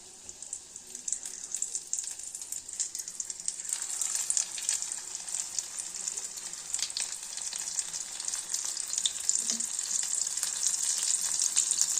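Amodi fish fry in hot oil with a steady, hissing sizzle that swells slightly louder over time, sprinkled with small crackles and pops.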